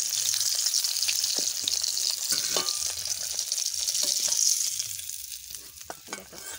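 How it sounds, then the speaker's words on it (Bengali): Fish fries in hot oil in a pan, a loud steady sizzle with occasional stirring scrapes and clinks, continuing throughout with no talk. "ভাজা হয়ে গেছে, মাছ কত সুন্দর ভাজা হয়ে গেছে"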